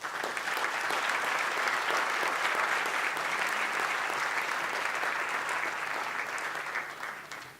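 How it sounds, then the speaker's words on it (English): A conference-hall audience at the Wroclaw Global Forum 2016 Freedom Awards claps in sustained, dense applause that holds steady for several seconds before tapering off at the end. "if you could all just join me right now to give you all this round of applause."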